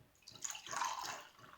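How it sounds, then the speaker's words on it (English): Water is poured into a cup during a classroom density demonstration, a brief soft splashing trickle that swells and fades, quiet and close. "We're going to pour our water into our cup."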